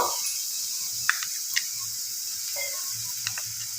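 Ginger paste frying in a pan of oil while making a katla fish curry: a steady close sizzle with a few light clicks and stirring ticks, and no talking.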